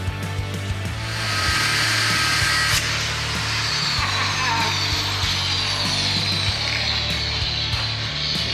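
A power tool cuts through three small tack welds on a rat rod being converted into a sand rat, a steady loud grinding whine running continuously with a low mechanical hum beneath and brief sharp ticks.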